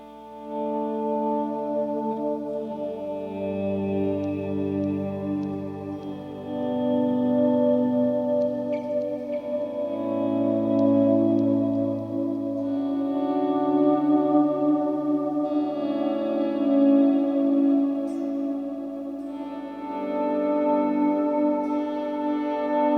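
Electric guitar volume swells, soaked in reverb and delay, notes fading in slowly and blooming into long washy sustained chords, alone and fairly loud.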